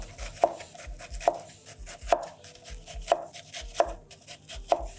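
A knife finely chopping onion on a cutting board, six evenly spaced sharp chops each with a solid thud on the board, close and clear with no talk.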